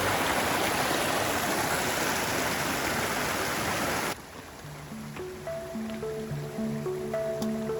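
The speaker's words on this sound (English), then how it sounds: "Love this kind of running water." Steady rushing water of a mountain stream near Spade Lake in Washington's Central Cascades fills the first half, close and loud, then cuts off abruptly to a quieter scene with soft tonal notes.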